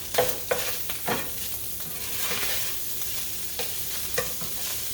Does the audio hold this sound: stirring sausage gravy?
yes